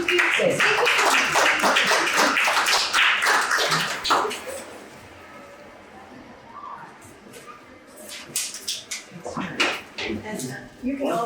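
Applause from a small crowd at an Easton Grange meeting, with quick dense claps for about four seconds. It fades into quiet room murmur, then a few scattered claps return near the end alongside voices.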